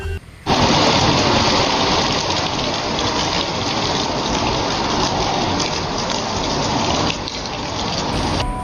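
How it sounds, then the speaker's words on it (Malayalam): Heavy rain pours down in a dense, steady roar that begins suddenly and keeps up loudly, with no voices over it. "മഴ മഴ എന്ന് പറഞ്ഞാൽ പൊരിഞ്ഞ മഴ"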